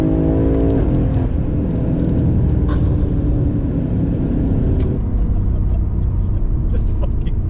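A BMW F90 M5 roars hard up through the revs on a straightaway, the deep engine note loud and continuous with a brief shift partway, while occupants talk over it.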